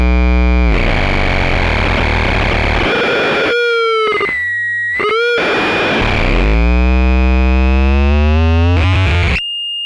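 A self-organizing nonlinear feedback synthesizer roars with dense distorted noise and shifting screaming tones, breaking into choppy gated bursts midway before swelling into sliding harmonic whines, loud and continuous, with no voices.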